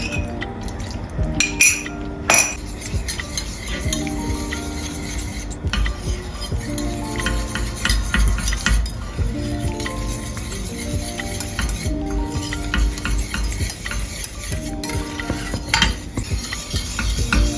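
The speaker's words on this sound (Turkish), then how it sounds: "bu şekilde yavaş yavaş bütün bardağı çorbaya ekleyeceğim." A glass of liquid poured slowly into a pot of homemade baby-food soup while a spoon stirs, with repeated clinks of metal against the pot and soft liquid swirling, close and steady, no talking.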